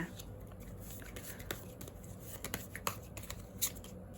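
Tarot cards are shuffled and handled close by in soft, irregular bursts of riffling and flicking with small taps, over a faint steady room hum.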